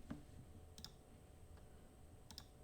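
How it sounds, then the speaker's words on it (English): A few sharp, quiet computer mouse clicks land at irregular intervals during an engineering lecture on thin-walled pressure vessels, each brief and isolated against faint room hiss. "clicking the wrong screen."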